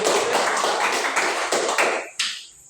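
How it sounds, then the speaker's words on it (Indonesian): A classroom of students claps for a classmate, a dense burst of hand claps that fades out in the final second, followed by a single sharp tap. "Oke, tepuk tangan dulu untuk Yole ya."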